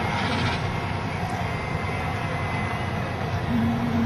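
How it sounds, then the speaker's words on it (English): A crashed Citation business jet's engine still running after the plane ended up in a bay, a steady loud roar and rumble with a faint hum and no voices over it. "That freaking engine's still running."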